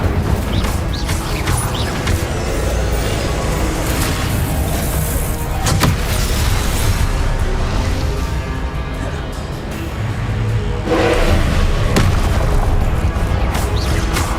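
Incendio fire spell cast in the video game Hogwarts Legacy, loud booming bursts and crackling blasts layered over dense game action and rumble, with a couple of strong hits standing out across the stretch.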